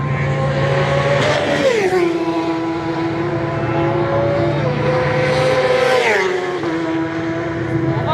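Racing motorcycles at the Isle of Man TT road race scream past at very high speed, two loud passes each with a sharp falling pitch as the engines howl by, over a constant roar of further bikes.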